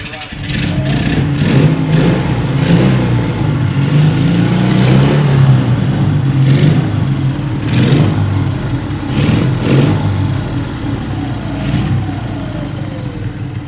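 Close, loud bursts of revving from a vintage 1960s BMW R60 motorcycle, several throttle blips rising over a rumbling idle, with a person speaking briefly between them.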